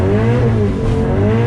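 Car engine revving hard during a drift event, heard from inside the cabin with sustained loud, steady engine drone and harmonics, consistent with a clutch kick under load; no talk.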